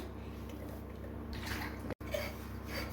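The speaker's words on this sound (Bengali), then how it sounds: "মাছের পুরো আঁশ তুলে নিয়েছি, এবার ভালো করে ধুয়ে নিচ্ছি।" Running water pours steadily over a scaled snakehead fish being washed by hand, a continuous close splashing rush with brief sloshes as the fish is turned, no voices.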